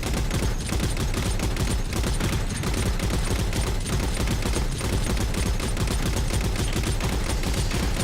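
Sustained automatic weapon fire in the game Halo 4, a dense unbroken stream of rapid shots at steady loudness throughout, with no voices over it.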